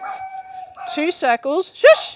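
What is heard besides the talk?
dog barking in the background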